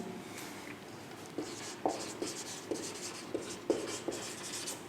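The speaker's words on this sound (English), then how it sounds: "I am writing one point here." A pen or marker writes on a board in short, close strokes, giving a quiet scratchy squeak with soft taps between strokes in an irregular rhythm. No one speaks.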